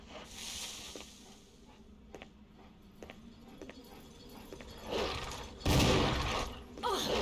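Several sharp shots crack out at irregular intervals in Resident Evil HD Remaster, with a louder burst of gunfire near the end over a low game background hum.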